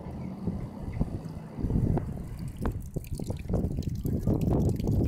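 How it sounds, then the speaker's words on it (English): Gusty wind outdoors rumbles steadily across the microphone, buffeting low and loud throughout with a few soft knocks mixed in. "Bit of a windy day."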